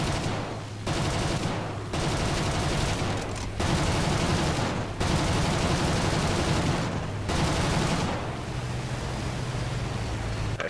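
Aircraft machine guns firing in War Thunder during an attack on a Do 217 bomber, loud long rattling bursts separated by brief pauses.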